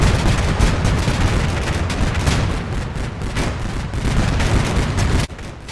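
In the Combat Mission Cold War war game, machine gun bursts and explosions rip without pause, a loud dense wall of rattling fire and deep booms that cuts off abruptly near the end.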